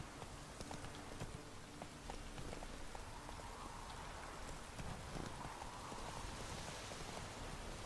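Horse hooves of Roach in The Witcher 3 clopping steadily over a wash of rain-like noise, a continuous loud bed of ambient game sound with no talking.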